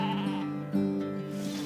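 Sealstoke lambs bleating inside a farm barn, a couple of loud, close, quavering bleats overlapping in quick succession, with no talk.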